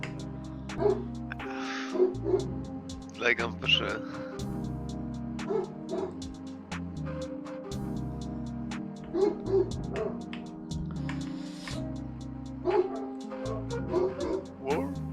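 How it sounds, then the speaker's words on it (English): A pet dog barks and yips in short bursts scattered across the stretch, moderately close, mixed under music and casual conversation between several people. "Sounds like a dog barking."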